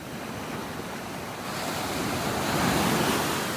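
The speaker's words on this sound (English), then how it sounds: "Still seeing some pretty nice waves." Ocean surf rolls onto the beach at North Naples, Florida, on a rough morning, a steady broadband wash that swells louder midway and stays up, with wind buffeting the microphone and no voices.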